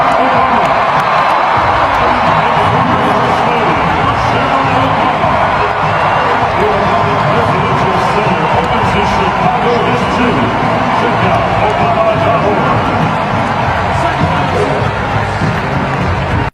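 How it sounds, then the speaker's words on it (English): A large All-Star game crowd cheers and roars in a dense, continuous wash of noise that stays loud and steady throughout. "The camera panned to them, and the crowd cheered."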